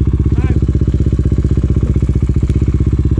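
A Honda CRF450L enduro motorcycle idles close by on a muddy trail ride, a steady rapid chugging thump that runs throughout, loud and unbroken.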